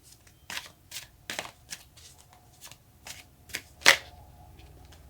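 Tarot cards being shuffled, with a quiet series of soft riffling flicks and slaps at an uneven pace, close by, ending with one sharper snap.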